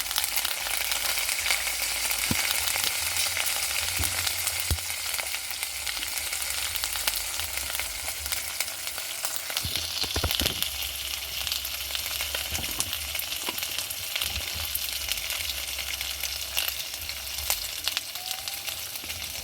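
Potatoes frying in a pan with turmeric powder, a steady close sizzle running throughout with a few faint stirring knocks.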